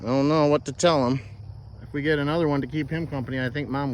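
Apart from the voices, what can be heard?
No distinct noise like a dog, phone or traffic.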